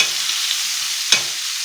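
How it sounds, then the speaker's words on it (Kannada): Tomatoes frying in a pan give a steady close sizzle, with one sharp scrape of a spoon stirring them partway through. "ಟಮಾಟೆನೂ ಬೇಗ ಸ್ಮ್ಯಾಶ್ ಆಗುತ್ತೆ ಅಂತ ಮಿಕ್ಸ್ ಮಾಡ್ಕೊಳ್ಳೋಣ"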